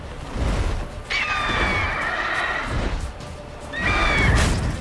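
Roach the horse in The Witcher 3 video game lets out two shrill neighs, one near the start and one near the end, over game combat noise and thuds.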